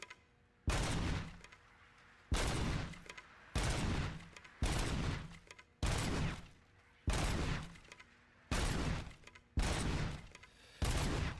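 Gunfire in the video game Robocop: Rogue City comes as about nine loud, close bursts at a fairly even pace, each one ringing out briefly before the next.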